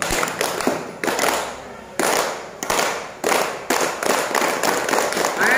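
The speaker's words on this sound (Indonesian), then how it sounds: "kita tepuk tangan dulu" An audience at a civil-servant training workshop claps in repeated bursts of crisp hand claps, loud and close, with short pauses between rounds.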